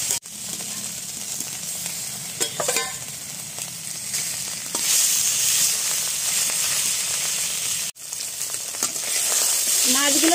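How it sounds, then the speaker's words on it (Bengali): Pieces of rohu fish fry in oil with a loud, steady sizzle, punctuated by stirring scrapes and clatter from a utensil and a sharp knock near the end, with no talking. "বাকি মাছগুলো দিয়ে দিচ্ছি।"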